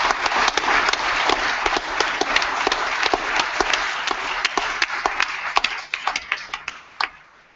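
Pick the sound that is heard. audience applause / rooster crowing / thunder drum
audience applause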